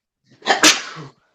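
A person lets out a single sharp sneeze, a quick intake followed by an explosive burst, close and loud, then silence.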